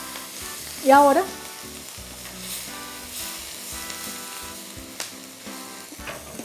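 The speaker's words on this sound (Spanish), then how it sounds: "por acá tengo media taza de cebolla finamente picada. La salteamos ahí." Half a cup of finely chopped onion sautés in margarine in a pan with a steady, moderate sizzle, and a voice speaks briefly near the start.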